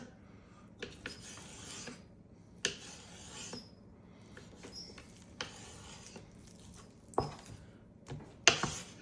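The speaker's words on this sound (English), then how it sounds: "So I'm going to slice here." A knife slices through chicken for a sweet and spicy stir-fry, giving several close, sharp cutting strokes against a board at irregular intervals, with quiet scraping between them and no talking.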